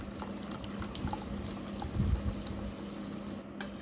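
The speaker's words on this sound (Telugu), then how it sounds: "ఇప్పుడు మనం సోడా వేసుకోవాలండి." Soda poured into a sabja (basil seed) drink already mixed with sugar syrup and salt: a soft, quiet fizzing trickle of liquid that runs steadily, with a slightly fuller splash near the middle.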